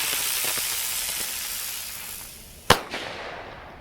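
Spinner fireworks set off outdoors in the morning: a long steady crackling hiss that ends in a single sharp bang, followed by a smaller pop and fading sizzle.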